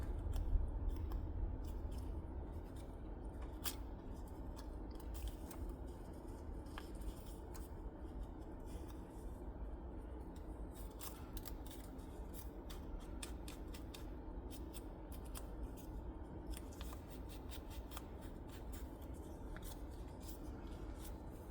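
Scissors fussy-cut paper close around its edge, making faint, intermittent snips and rustles against a quiet background.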